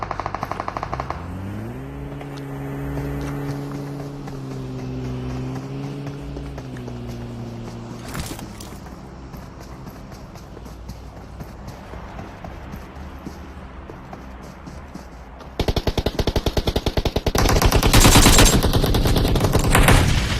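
Rapid automatic gunfire in PUBG Mobile rattles out in fast bursts near the end, after a long stretch of droning game ambience and a rising engine-like tone.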